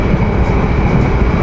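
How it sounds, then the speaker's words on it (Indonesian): A train bogie rumbles inside an Argo passenger carriage running at 120 km/h between Jakarta and Semarang, a loud, dense, continuous roar with rolling low-end churn and no talk. "suara boginya terdengar sekali sampai dalam seperti ini nih."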